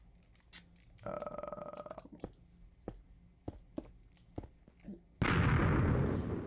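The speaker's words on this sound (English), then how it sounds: "Don't mind the shit exploding. That's just HBMs being HBM." Minecraft blocks exploding from the HBM mod: scattered sharp pops and a droning burst early on, then a sudden loud, rumbling blast that roars on to the end.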